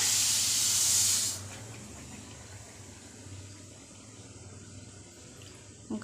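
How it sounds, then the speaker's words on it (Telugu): A cup of water hits sugar in a hot kadai on the stove for syrup, releasing a loud burst of steamy hiss for about a second. It then settles into a quieter, low simmering bubble. No one speaks. "ఒక కప్పు వాటర్ వేద్దామండి"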